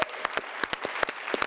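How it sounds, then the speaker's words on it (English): Scattered applause from a small audience greeting a guest doctor on a talk show, sharp separate claps in an uneven rhythm, fairly close and moderately loud, with no voices over them. "I just want to continue clapping"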